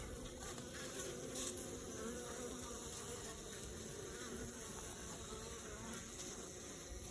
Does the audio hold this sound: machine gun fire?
no